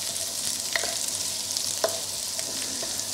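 Chicken stir fry sizzling in a wok, a steady hiss with a few light clicks and scrapes of a utensil, no talking.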